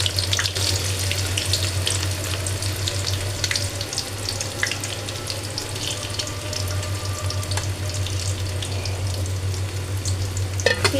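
Chopped onion fries in hot mixed soybean oil, a dense steady sizzle with crackles and a low hum underneath, alone and close.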